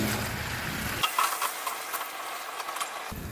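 Kabuli chana masala pakodas fry in hot oil, giving a steady, close sizzle with a low rumble at the start and end and a few soft bubbling pops in between.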